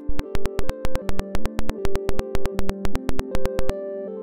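Looped clock pulse gate signal from a 1010music Bitbox Micro: a steady train of about eighteen evenly spaced sharp clicks over shifting sustained synth tones, loud and close, with no voices.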